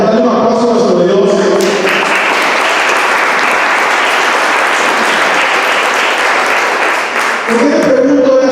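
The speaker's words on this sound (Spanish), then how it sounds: "Dale un aplauso a nuestro Dios." A church congregation applauds in praise to God, a dense, steady wash of clapping that swells in and holds for several seconds before giving way to voices on either side.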